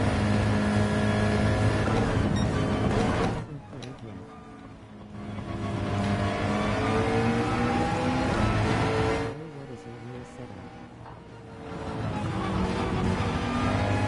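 A McLaren race car in Gran Turismo 7 drives off-road with a sustained engine roar rising and falling in pitch through shifts, easing off twice for a few seconds before revving back up, with speech partly over it.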